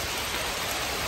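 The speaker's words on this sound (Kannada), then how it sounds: "ನೋಡಿ, ಕೊಡಗಿನ ಮಳೆ." A thick, even roar of pouring rain and hail falls in Coorg, close and constant, a wash of drumming drops with no talk.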